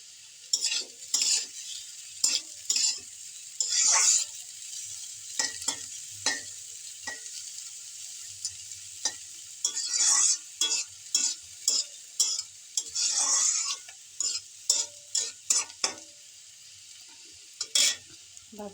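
Vegetable bhaji stir frying in a pan, a soft sizzle under repeated sharp scrapes and clinks of a utensil against the pan at an irregular pace, close and clear with no talking.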